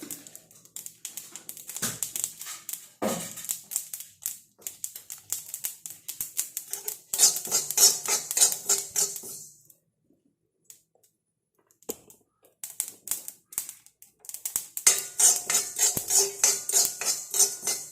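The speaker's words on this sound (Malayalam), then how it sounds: "രണ്ട് സ്പൂൺ കരിഞ്ചീരകം ഇതെല്ലാം കൂടെ കൂടി നല്ല പോലെ ഫ്രൈ ആക്കി എടുക്കുക" Black cumin seeds and spices dry-frying in a pan while being stirred: quick clicks and scrapes come in busy bursts, with a near-silent gap in the middle and then another run of sizzling, rattling strokes.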